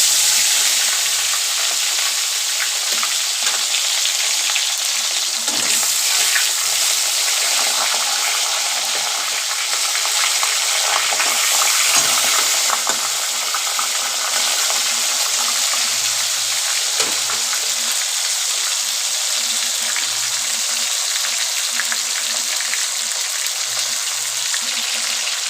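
Fish rubbed with salt and turmeric sizzles in hot oil with a loud, steady, dense crackle that continues unbroken and close up, with no talk.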